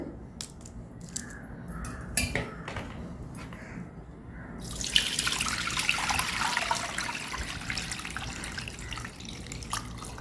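Rose bio-enzyme liquid, made from rose petals, runs through a filter. Scattered drips and trickles in the first seconds build into a steadier, louder pouring stream that continues to the end, with no talk.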